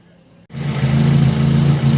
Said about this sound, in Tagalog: So, start natin yung sasakyan.